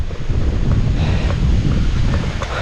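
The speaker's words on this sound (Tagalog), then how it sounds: "Kahapon medyo humina ang ihip ng hangin eh. Ngayon no, bumilis na naman." Strong wind blows steadily and loudly, buffeting the microphone with continuous low rumble throughout, at an outdoor site where bamboo building materials are being gathered.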